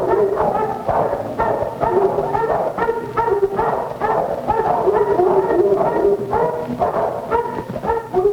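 Several husky sled dogs bark, yip and whimper together in a dense, continuous chorus of overlapping cries, loud and close, with no pause throughout.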